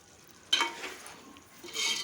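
Country chicken curry gets stirred in a hot pan, with a soft scrape of the spoon and a quiet sizzle of frying that rises in two brief swells.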